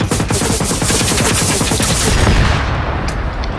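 Loud, continuous rapid gunfire from an automatic weapon in the video game Generation Zero, dense and unbroken for several seconds with sharp repeated cracks.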